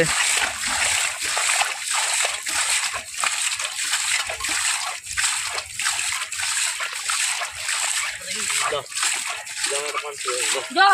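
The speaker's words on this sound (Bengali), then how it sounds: "কলকাতার মেয়ে এখন জল ছেঁচছে" Water is bailed out by hand in repeated splashing, sloshing scoops at a steady rhythm, with voices talking over it.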